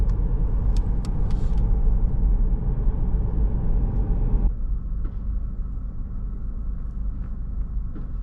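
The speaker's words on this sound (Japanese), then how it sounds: "さて、車に戻って運転再開です。" A car drives along a road in Switzerland, giving a steady, loud rumble of engine and tyres that carries on throughout, its tone dropping noticeably partway through as the ride continues alone without talk.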